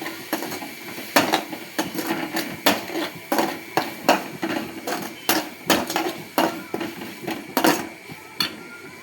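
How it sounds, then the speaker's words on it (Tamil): A spatula stirs ginger garlic paste in a pan, making a rapid, steady series of close metallic scrapes and knocks with soft frying hiss between them. "இஞ்சி பூண்டு பேஸ்ட்டு தேவையான அளவு போட்டு நல்லா வதக்கிக்கலாம்."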